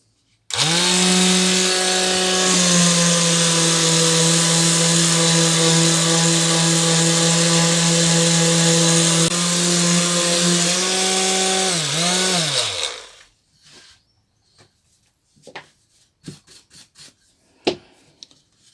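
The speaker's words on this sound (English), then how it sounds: "quick sanding over and we'll see what we've got" A power sander whines steadily and loudly for about twelve seconds while smoothing resin-filled routed lettering, then winds down, followed by light scattered taps and rubbing.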